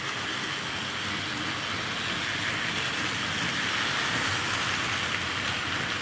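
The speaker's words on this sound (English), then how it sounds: "Just going to watch the 2 locos pass each other." Heavy Wrenn model locomotives run on a Tri-ang model railway layout, two engines passing each other, making a steady, continuous rolling rumble and hiss throughout with no talking.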